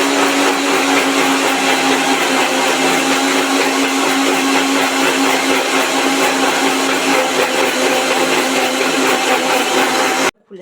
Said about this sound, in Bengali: মিক্সিতে এবার পেস্টটা করে